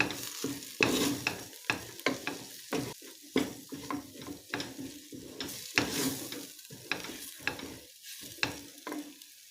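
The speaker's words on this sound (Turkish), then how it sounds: "Tekrardan şöyle bir salçayla bir dakika daha kavuracağım." Tomato paste sautéing with meat in a pot for a chickpea and meat stew, with a continuous sizzle punctuated by frequent, irregular scraping clanks of a spoon stirring against the pot, close and clear, with no talking.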